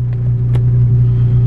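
A 9th-generation Honda Civic Si idles outdoors in the rain, its close, steady low rumble holding smooth and even without any revving.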